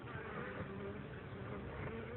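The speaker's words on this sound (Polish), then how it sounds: "jak pięknie przyleciała pszczoła z pyłkiem." Honeybees buzzing at close range around the entrance of an apiary hive as a forager arrives carrying pollen in early spring, a steady, low, droning hum without pauses.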